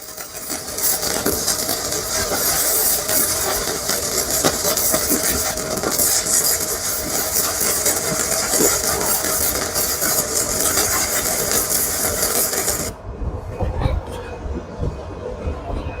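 Flux core MIG welding with a Sefaspe MIG135E welder, a continuous loud crackling and hissing arc sustained for about thirteen seconds, then cutting off abruptly into quieter background noise.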